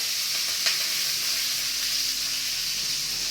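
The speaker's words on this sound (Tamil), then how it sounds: "கடுகு நல்லா பொறிஞ்சு வந்ததுக்கப்புறமா கட் பண்ணி வச்சுக்கிற பச்சை மிளகாய் சேர்த்துக்கிறோங்க" Green chillies hit hot oil with spluttering mustard seeds for egg kuzhambu, a dense, loud and continuous frying hiss up close, with one brief pop early on.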